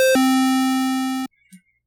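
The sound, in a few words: chiptune synth note with long hold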